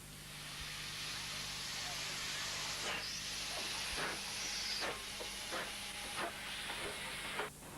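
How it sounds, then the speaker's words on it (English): Steady steam hiss fills the air from a nearby steam engine at a steam festival, with a low mechanical hum and faint voices and bustle in the background. "the sounds of steam engines"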